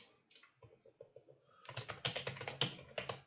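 Rapid keystrokes on a computer keyboard while entering a Python function, sparse soft taps at first, then a dense, louder burst of fast typing, close and clear with no voices.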